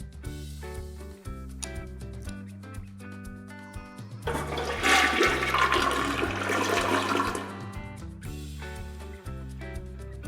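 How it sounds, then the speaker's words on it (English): A toilet flushes in the middle of cheerful children's song music, a loud rushing surge of water lasting a few seconds before the music carries on alone. "flush the toilet"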